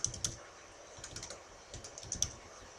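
Quiet typing of a username on a computer keyboard, a loose run of soft key clicks with small pauses, close and alone.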